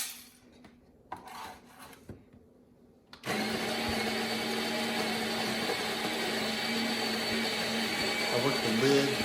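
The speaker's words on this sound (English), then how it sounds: "So let's grind this up and see what we can do." Burr grinder chewing through fruity, berry-noted espresso beans for a home espresso setup: a steady, loud grinding whir starts after a few seconds of quiet clicks and handling, then runs continuously with a slight rise near the end.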